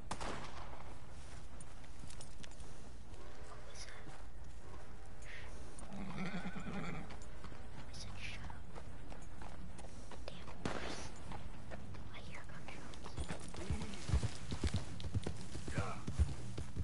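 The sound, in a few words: horses neighing and hooves clip-clopping in a video game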